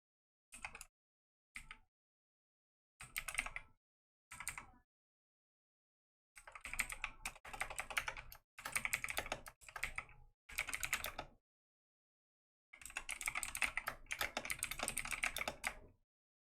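Computer keyboard typing in bursts, rapid close clicky keystrokes separated by short gaps of complete silence, with a longer dense run of typing near the end.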